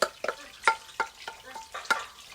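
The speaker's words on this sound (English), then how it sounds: "I am putting the matzah mixed with the egg into the frying pan." A matzah and egg mixture frying in oil in a pan, with a utensil stirring and scraping in several short, close clacks over a light sizzle, no talking.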